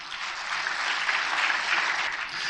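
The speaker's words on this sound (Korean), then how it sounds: "큰 박수 한번 해야 되지 않겠습니까?" Audience applause at a Korean lecture about the Korean War: a dense, steady wash of many hands clapping, loud and continuous for a couple of seconds with no voices.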